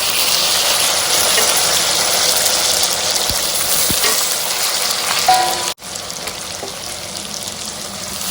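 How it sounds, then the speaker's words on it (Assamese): Carrots dropped into hot oil in a pan with pork, giving a steady, loud sizzle and hiss that runs throughout, with a brief break near the end before the frying resumes. "এতিয়া মই ইয়াতে গাজখিনি দি দিছোঁ"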